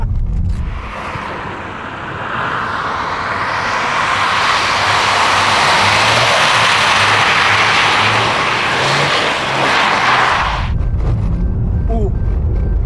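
A car driving on an icy track, a loud, steady engine roar sustained at close range for about ten seconds with tire noise, then cutting off abruptly into quieter background sound and faint voices.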